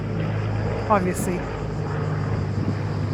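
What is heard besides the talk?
Canadair firefighting plane flying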